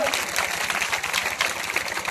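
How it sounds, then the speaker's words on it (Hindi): Crowd applauding at a political election rally in Bihar, steady dense clapping sustained throughout, moderately loud and without pauses. "जोरदार ताली बजा के लोग का स्वागत करा।"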